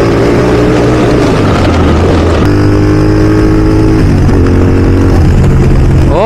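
A repaired motorcycle engine running loud and close, a steady droning hum with shifting engine pitch as the revs change partway through, no talk over it.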